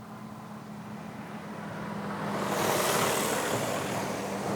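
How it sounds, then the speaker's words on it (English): A lorry approaches along a guided busway and passes by, a broad rushing roar of tyres and engine that builds from a distant hum to a loud pass and then holds. "That's not a bus, that's a lorry."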